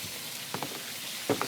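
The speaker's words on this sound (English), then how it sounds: "that's snap, crackling, popping all over the camera" Lobster tail sizzles in butter in a hot pan, giving a steady close frying hiss broken by a few sharp pops and crackles.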